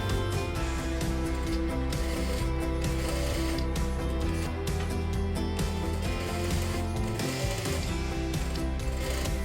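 A sewing machine runs continuously and loudly, stitching two rows of gathering stitches along the bottom of a dress sleeve with a steady mechanical whir and rapid needle clatter throughout.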